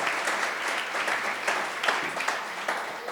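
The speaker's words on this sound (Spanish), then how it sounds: "¿Por qué no se dan un aplauso ustedes?" A church audience breaks into sustained applause, a dense, even wash of many hands clapping at once that carries on without pause for about three seconds.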